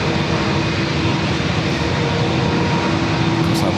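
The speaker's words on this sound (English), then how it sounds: "United Flight 1779 heading back to Chicago O'Hare in the retro livery. It's a 24-year-old A320." A 24-year-old United Airlines Airbus A320 airliner in retro livery at San Diego airport produces a loud, steady, broadband engine roar that fills the whole stretch without a break.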